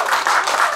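Audience applause at a live Korean folk performance with drum and janggu, a brief, fairly loud burst of many hands clapping in rapid, uneven bursts.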